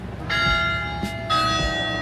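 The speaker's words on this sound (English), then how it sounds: "Their bells go off quarterly on the half hour, on the hour." Church of the Mercy bells in Panama City at night, two loud ringing strikes about a second apart, each leaving a bright sustained hum, heard clearly and without talk.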